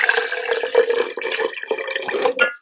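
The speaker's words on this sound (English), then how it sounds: "now I'm just going to go ahead and pour water over them" Filtered water poured from a container into a jar of broccoli seeds, a continuous splashing, gurgling stream that stays close and fairly loud for a few seconds, then tapers off at the end.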